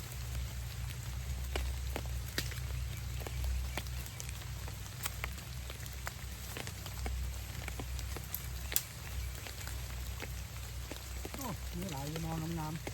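Steady rain patters on the ground and foliage outdoors during bamboo-shoot foraging, a dense continuous hiss with scattered sharper drops, and a brief voice rises near the end.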